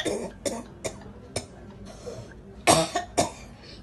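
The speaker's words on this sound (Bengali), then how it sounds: "একটা কাশি দাও" A hospital patient with an incisional hernia gives a series of about seven short, sharp coughs close to the microphone, spaced unevenly, with a louder pair near the end.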